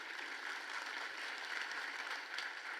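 An audience at a world marketing summit in India claps, a quiet but continuous patter of many hands heard at a distance, with no speech over it.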